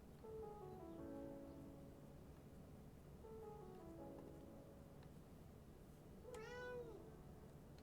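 A cat meows several times, long wavering cries at moderate distance, with a final rising and falling meow near the end over soft steady background noise.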